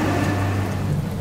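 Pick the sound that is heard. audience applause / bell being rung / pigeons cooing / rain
rain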